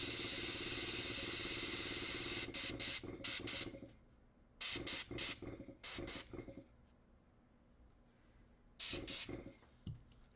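Airbrush spraying paint during miniature painting, steady hiss at first, then several short bursts separated by quieter gaps, close and fairly loud.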